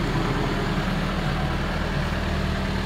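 A diesel-driven hydraulic rig heater for warming a workover rig floor runs steadily nearby. Its low engine rumble drones beneath a constant rush of blowing air, with no one speaking.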